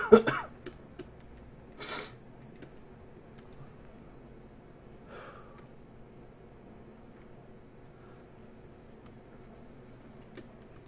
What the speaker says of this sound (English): guys gonna hear me coughing and dying over the microphone tonight